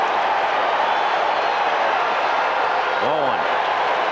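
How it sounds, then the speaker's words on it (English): Baseball crowd at Shea Stadium during Game 6 of the 1986 World Series, a dense, steady roar of cheering throughout, with a brief whistle-like rising tone near the end. "this crowd came here to make some noise tonight"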